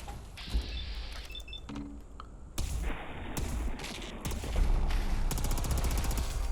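A weapon fires during VATS targeting in Fallout 4, heard as a few sharp shots and impacts over a steady game soundscape with electronic tones and ambient noise, moderately loud and without speech.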